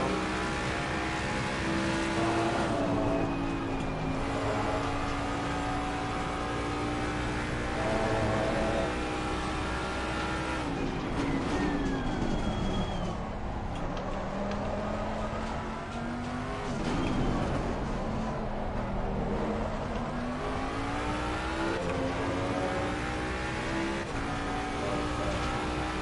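A race car in a racing video game roars continuously, engine pitch climbing through the gears and dropping on downshifts, with tire squeal and skidding through corners, loud and sustained throughout.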